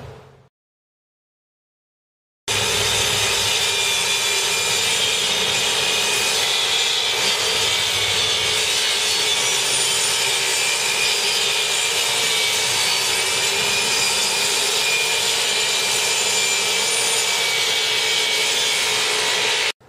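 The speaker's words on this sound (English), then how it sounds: "measure your cabinets and cut your plywood to fit" Plywood being cut to fit kitchen cabinets, a steady loud sawing drone that starts abruptly after a short silence and runs unbroken to the end.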